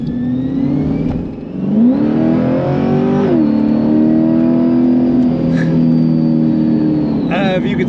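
Loud supercharged 2020 Chevrolet Corvette Coupe engine revving up through the gears, pitch climbing with each shift and settling into a strong steady drone, heard from inside the cabin.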